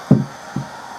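Two dull knocks as a hair dryer bangs against a wedding shoe, a louder thud followed by a softer one half a second later, close by, over a faint steady whir.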